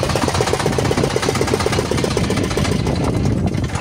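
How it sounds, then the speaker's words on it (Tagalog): A boat engine runs steadily on the way to an island, a loud continuous mid-pitched drone with a regular chugging pulse throughout, with no talk over it. "Patayin mo natin yung makina."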